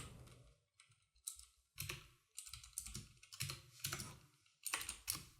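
Fingers type on a new computer keyboard in irregular bursts of crisp clicking keystrokes, close-up, with short pauses between flurries and no voices.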